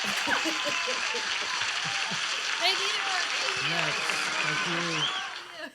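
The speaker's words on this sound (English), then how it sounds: "crowd goes wilder than literally any other time that the crowd has gone wild in this room" A concert crowd cheers wildly, a dense wall of applause, whoops and shouting voices filling a room, loud and sustained before tapering off at the end.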